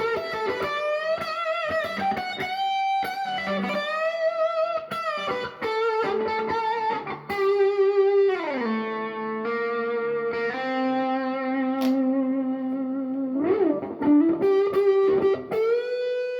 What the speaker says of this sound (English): Let's just give it a bit more oomph, not volume gain, a bit more reverb.